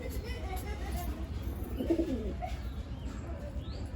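Madrasi pigeons coo in a loft, a soft low cooing rising briefly near the middle over a steady murmur of background noise, with a faint high chirp or two.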